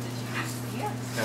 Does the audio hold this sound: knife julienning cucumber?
no